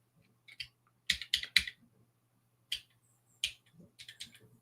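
Computer keyboard keys pressed in short separate bursts and quick clusters, close and fairly quiet, while navigating a code editor; no talk.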